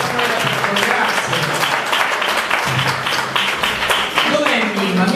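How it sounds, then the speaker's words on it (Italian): An audience at an Italian association gathering breaks into loud, sustained applause after a personal testimony, dense clapping throughout with some voices mixed in underneath. "Un applauso alla testimonianza di Mimma."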